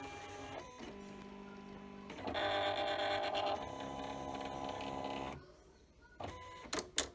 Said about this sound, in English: So what it's going to do is it's reading those registration marks.